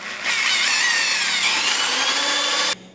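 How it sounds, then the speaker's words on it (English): A power drill bores a hole into a guitar pedal board with a loud, close, high whine lasting a couple of seconds. Its pitch rises slightly before the motor abruptly cuts off. "Time for a power drill."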